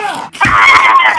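A woman lets out a loud, sharp scream, a short break and then a sustained piercing cry, close and intense.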